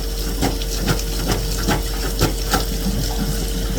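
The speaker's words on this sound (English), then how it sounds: "let it fill with water, and then plunger it some more." A plunger works a clogged bathtub drain under standing water, giving rhythmic wet sloshing and gurgling bursts about every half second over a steady watery hiss, close and fairly loud.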